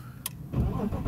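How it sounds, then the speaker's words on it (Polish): BMW with an M54 engine cranking and firing up, a brief starter whir that catches into a close, rough-edged idle rumble, all within about a second. "Także teraz odpalę silnik."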